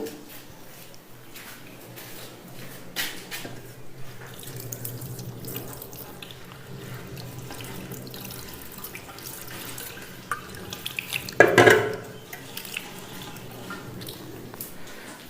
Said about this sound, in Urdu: اس کے بعد جو ہے نا وہ آپ اپنے ہاتھ دھو لیں